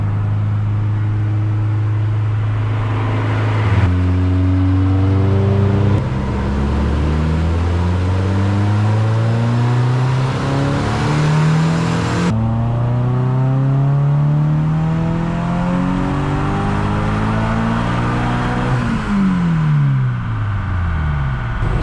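A Toyota GT86 fitted with an HKS supercharger revs hard on a dyno toward 7,500 RPM, its loud engine note sweeping upward through several gear pulls, the pitch climbing steadily, dropping at each shift and rising again, with no talk.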